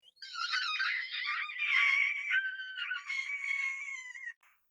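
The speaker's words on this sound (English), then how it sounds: "the Pangosian child screamed" A Pangosian child screams in a long, shrill, wavering cry lasting about four seconds, close and loud, rising and falling in pitch before cutting off abruptly.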